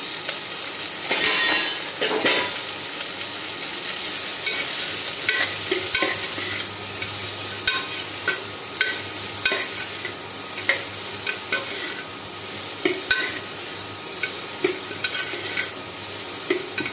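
Onions frying in a pan with mustard seeds, cumin and green chilies for kichidi on an induction stove, a continuous loud sizzle broken by stirring scrapes and small crackles, with no talking.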